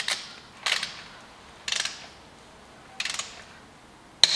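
A torque wrench tightening the wheel lug bolts on a Golf R, with three short ratcheting bursts of clicks spaced about a second apart and a sharp click at the end, close up in a quiet garage.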